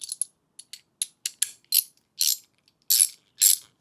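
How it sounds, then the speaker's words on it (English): A cheap 3/8-inch ratchet from a budget toolkit clicks in about a dozen short bursts of crisp, close pawl ticks, some quick single clicks and some longer ratcheting runs, with no talk. "It's got a 3/8 ratchet there."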